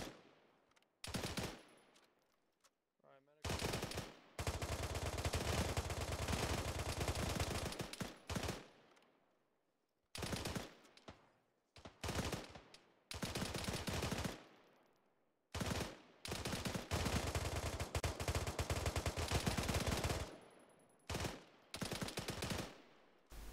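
ArmA 3 video game gunfire bursts out in long automatic volleys separated by short pauses, loud, dense and rattling, with no speech over it.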